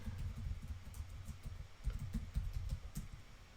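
Soft keystrokes on a computer keyboard as an email address is typed, a quick uneven patter of muffled clicks in short bursts, close but faint, with no talking.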